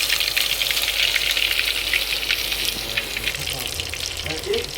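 Crushed garlic goes into hot oil with cumin seeds in a pan over a wood-fired chulha stove, giving a loud, continuous close sizzle and crackle that eases slightly toward the end, with a voice faintly underneath.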